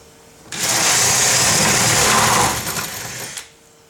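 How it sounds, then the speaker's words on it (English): A power drill bores through the other side of an interior door for a handle fitting, one sharp whining burst of about two seconds up close that cuts off and leaves a brief rattle. "we're now going to drill the other side of the door where our drill bit came through"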